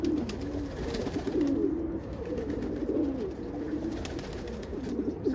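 Pigeons coo steadily in a loft on a mild, rainy morning, with soft, overlapping murmuring calls that continue throughout over a constant background hiss.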